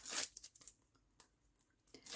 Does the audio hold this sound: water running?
no